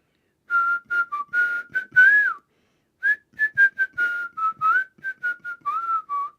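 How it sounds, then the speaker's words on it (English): A person whistles a song's melody: a bright, clear solo run of short notes with bends and slides, a brief pause midway, then the tune continues with no other sounds. "The one I was whistling?"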